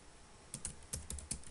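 Keys on a computer keyboard are tapped as a wrong password goes into a PHP login form: a short burst of about six crisp, close clicks at an uneven pace, heard alone.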